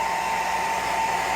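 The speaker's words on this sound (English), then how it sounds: "I don't know how loud this blow dryer is" A blow dryer runs steadily and loudly at close range while drying a wet pet bird sitting on a perch, its even whooshing hum holding unbroken throughout.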